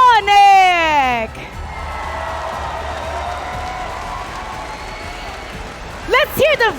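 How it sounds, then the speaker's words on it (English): A large crowd claps and cheers steadily at an esports tournament in the echoing Rizal Memorial Coliseum arena, framed by loud amplified voices at the start and end. "Everybody, let's give a big round of applause for"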